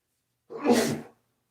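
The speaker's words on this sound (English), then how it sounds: "I'm about to sneeze." A single loud, breathy human sneeze bursts out close to the microphone, lasting just over half a second in otherwise silent surroundings.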